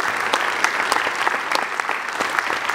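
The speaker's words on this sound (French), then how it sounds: "On l'applaudit bien fort" An audience at an international magic festival in Liège claps steadily, a dense, even burst of applause with no voices on top.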